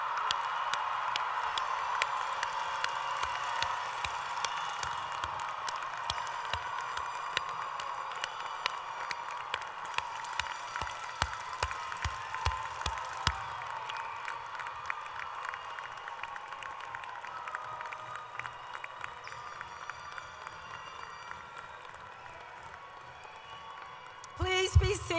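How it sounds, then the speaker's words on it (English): A large graduation crowd in a big hall applauds and cheers for the graduates' relatives and supporters, a long, distant, reverberant roar of clapping and voices with scattered sharp claps, gradually thinning toward the end. "please stand for a round of applause"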